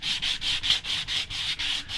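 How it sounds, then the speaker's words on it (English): Rhythmic back-and-forth strokes of sandpaper rasping on a large glass plate, about four per second, close and steady with no talking. "I'm just kind of getting basic sanding done today"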